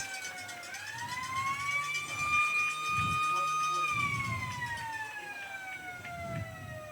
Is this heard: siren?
yes